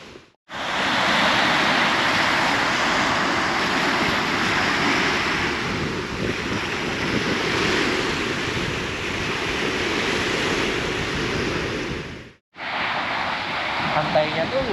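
Steady, loud roar of surf breaking on the wide white-sand shore of Teluk Awur Beach, Jepara, Indonesia, with wind buffeting the microphone; the wash runs continuously and drops out briefly near the end.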